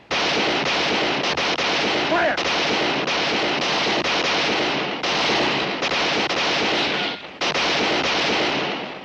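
Dense, continuous gunfire from Winchester rifles in a Western shootout scene, loud overlapping shots packed together with brief gaps, and shouting voices mixed in.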